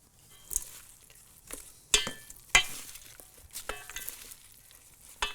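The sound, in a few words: mixing a dressed salad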